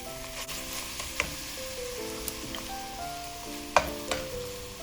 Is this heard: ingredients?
yes